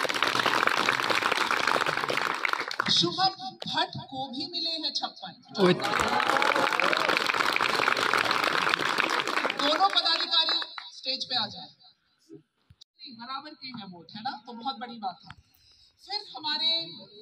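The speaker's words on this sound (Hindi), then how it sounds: "जोर से ताली बजाओ" An audience at a student union election results announcement bursts into dense applause twice, each burst lasting a few seconds, with an announcer speaking over a loudspeaker between and after them.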